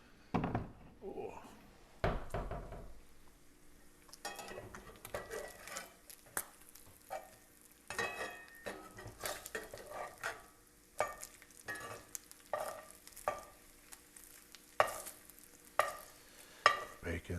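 Bacon fries in a pan under a faint background sizzle, punctuated by many irregular pops, taps and utensil clinks close by. A person talks intermittently over it.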